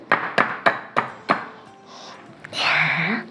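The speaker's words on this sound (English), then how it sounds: "crack it here first before you put it directly" Eggs cracked one at a time against the rim of a mixing bowl while making banana cake: five sharp, close taps in steady succession, then a brief pause before a broad splashing rustle.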